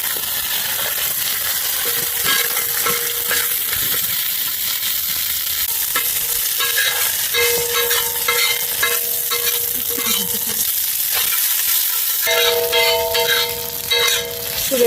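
Masala for a pomfret fish fry sizzles steadily in a pan while being stirred, with scraping strokes and occasional light metallic clinks, close and continuous with no talking.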